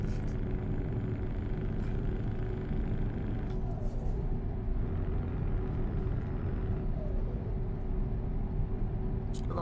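Truck engine in Euro Truck Simulator 2 gives a steady, throaty low rumble that runs unbroken at a constant level through the whole stretch, with no other sounds over it.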